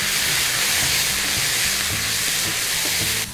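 Chilli coriander fried rice with green and red chillies and soy sauce sizzles loudly in a hot pan while being stirred, a steady bright frying hiss with rhythmic scraping and tossing strokes throughout, no voices.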